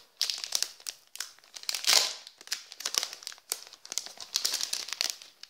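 Crinkly plastic packaging of a magic drawing card being torn open and handled, a close, continuous run of rustling and crackling bursts with short pauses between handfuls.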